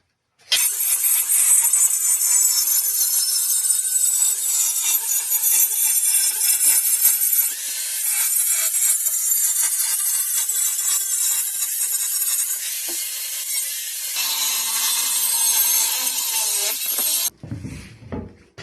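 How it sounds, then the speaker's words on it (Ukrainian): A small angle grinder cuts metal for a homemade 12-ton press, a loud, continuous high-pitched whine lasting over fifteen seconds with slight shifts in pitch as the cut progresses, then stopping abruptly. "Тільки розпускаю маленьку болгарку, щоб гарненький шовчик був і все."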